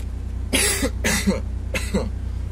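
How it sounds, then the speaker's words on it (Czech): Three harsh, close coughs from one person, spaced about half a second apart, over a steady low background hum, with no talking. "Ještě jednou se omlouvám za to kašlání"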